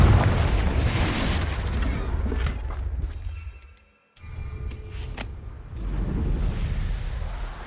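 The Confringo blasting spell fires in the video game Hogwarts Legacy, bursting as a loud, booming explosion with rumbling debris. A brief silence follows, then more booming rumble swells back in.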